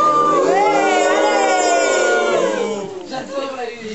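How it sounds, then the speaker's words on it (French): An evening show audience in France boos on cue, a loud sustained wave of voices with rising and falling tones that fades after a few seconds into scattered calls. "J'adore la huée."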